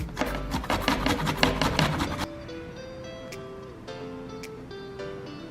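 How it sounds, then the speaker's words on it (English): Fresh ginger grated on the fine side of a kitchen grater, a quick run of rapid, rough scraping strokes for about two seconds, then quiet kitchen background. "go ahead and grate it. And I'm using the fine size of the grater"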